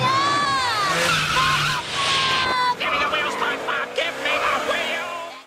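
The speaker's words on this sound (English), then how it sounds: "puts the car in reverse while going at ludicrous speeds" Cartoon car in SpongeBob thrown into reverse at high speed, tires skidding with loud wavering squeals and a rising engine whine, then further screeching bursts under overlapping voices.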